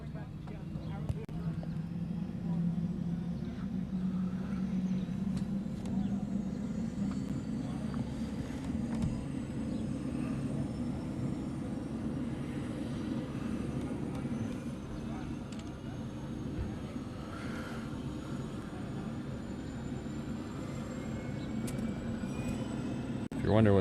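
A Trident helicopter operating near Honolulu Airport, a steady droning rotor and engine roar that holds loud and continuous throughout, close by, with faint background airport noise.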